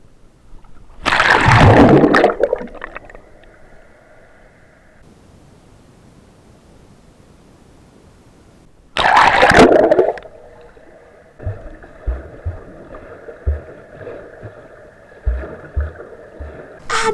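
Swimming in a hotel pool in Lanzarote, with two loud rushing splashes as the swimmer plunges in, then close, muffled underwater-style gurgles and rhythmic water strokes.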